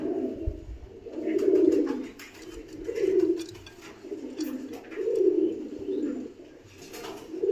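Pigeons kept in pairs coo softly in repeated low, rolling phrases, each swelling and fading about every second or so, with faint chirps and rustling in the background.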